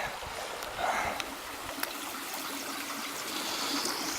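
A small brook on the Ozark Trail flows steadily in the open air, a soft continuous wash of running water with faint trickles and splashes, moderately close and alone with no talk.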